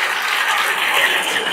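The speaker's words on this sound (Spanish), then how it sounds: "Denle un aplauso ahora al Señor" An audience of business people at a spiritual conference applauds in a dense, steady wash of clapping that holds at an even level for a moment.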